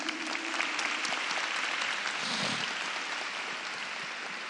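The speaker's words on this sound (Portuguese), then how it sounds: "Você já sabe que tem que aplaudir a palavra de Deus" A church congregation at a Catholic revival service applauds continuously, a soft, even roar of many hands heard from some distance in a reverberant space, with a faint murmur beneath.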